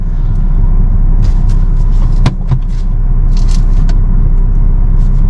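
A Tata Tigor EV electric car picks up speed with a loud, steady road rumble and tire noise inside the cabin, broken by a couple of brief knocks and scrapes.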